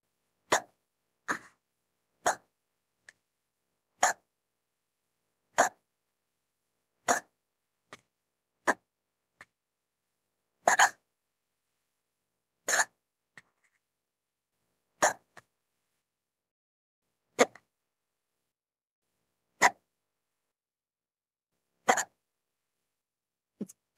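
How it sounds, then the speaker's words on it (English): A woman hiccups again and again at her computer after sipping a drink, about fifteen sharp, close hiccups spaced a second or two apart over near silence. "I'm surprised we got the hiccups so quickly this time."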